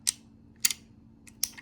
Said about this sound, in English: it's got a lovely trigger hammer action. It's got a really nice crunch. Sounds like 3 clicks,